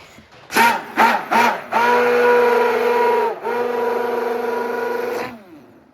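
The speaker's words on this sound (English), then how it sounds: "we're going to blend it with our immersion blender" Immersion blender whirring through face cream ingredients, with a few short bursts and then a sustained loud motor whine that dips briefly and carries on before stopping.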